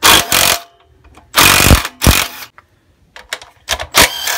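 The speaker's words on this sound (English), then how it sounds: "So I've got the impact. I'm just going to take them two nuts off." An impact wrench rattles in loud, close bursts, hammering at the nuts on a non-running Honda generator, with short pauses and faint clicks between the bursts.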